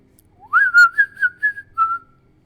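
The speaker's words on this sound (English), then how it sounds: "You hear a little whistling." A lone person whistles a short wavering tune of about six notes in the woods, a rising opening note then steady melodic phrases, clear and close against near silence.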